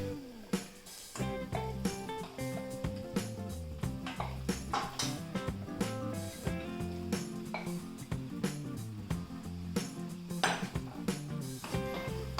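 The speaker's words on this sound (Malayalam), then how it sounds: "കരിങ്കോഴിനെ കൂടെ അങ്ങോട്ട് ഫുള്ളായിട്ട് ഇട്ട് കൊടുത്ത് നല്ലോണം ഒന്ന് മിക്സ് ചെയ്യാം." Black chicken pieces being mixed into curry masala in a pan, giving steady clattering pot-and-utensil scrapes and clinks throughout, close and busy, with a dense tonal layer underneath and no talk.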